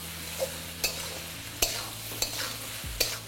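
Tomato and spices stirred in a pan over a medium flame while making dalia: a soft, steady sizzle with about six sharp scrapes and taps of the spoon against the pan, evenly spaced and close.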